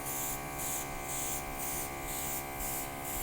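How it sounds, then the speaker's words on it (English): A continuous fine hiss of an airbrush spraying cosmetic makeup onto tissue, pulsing gently in volume over a few seconds, close and fairly quiet. "Spray it on the tissue."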